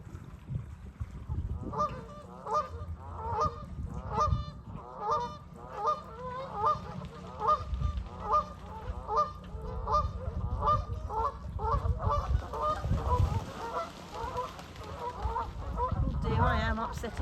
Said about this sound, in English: all the geese today.